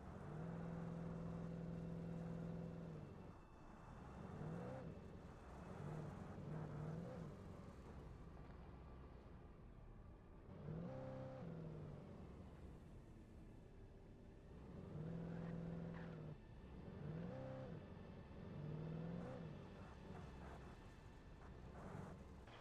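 Car driving over rough ground in Alan Wake Remastered, the engine droning and revving in repeated surges with whirring tones, rising and falling over a long stretch.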